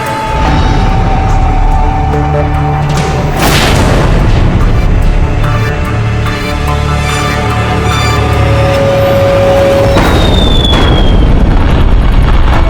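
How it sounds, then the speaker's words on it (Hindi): Explosions from battle boom outside during a period war drama set around Akbar and Maharana Pratap: loud, continuous rumbling blasts with heavier bursts near 3.5 and 10 seconds, filling the scene without talk. "अंदर धमाकों के कारण सो नहीं पा रहे हैं"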